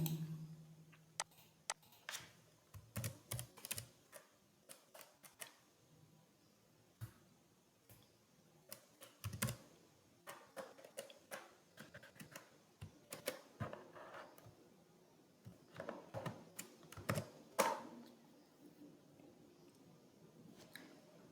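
Keys tapped on a computer keyboard while entering a username and password, scattered quiet clicks in irregular bursts, faint and close, with no voices.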